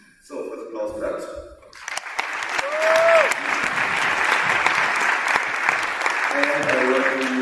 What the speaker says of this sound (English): So, first applause for that.